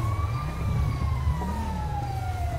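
Ambulance siren in GTA 5, a steady wailing tone that slowly falls in pitch over a low rumbling traffic and engine bed, loud and continuous throughout.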